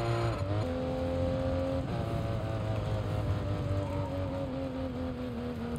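Race car in the F1 22 video game drifting and sliding, its engine holding a loud, steady high whine that climbs and dips with gear changes, close and continuous with no talk.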